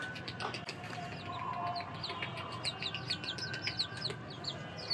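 Hens with three growing chicks on a rooftop, giving soft clucks and repeated high peeping chirps through a steady outdoor background, fairly close and moderately loud.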